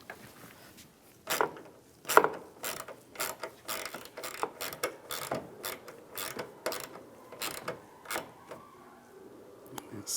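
A ratchet tightens bolts on the windshield wiper transmission of a 2007–2013 Chevy Silverado, with bursts of quick clicking strokes separated by short pauses, close up and moderately loud.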